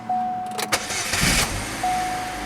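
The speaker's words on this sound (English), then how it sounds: "Put the key back in and see if it wants to start." A 2005 Chevy Cobalt is started with the key: a chime, a short crank, then the engine catches and settles into a steady idle, heard close up.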